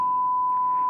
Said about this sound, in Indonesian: Di function generator kita set frekuensinya 1 kHz gelombang sinus,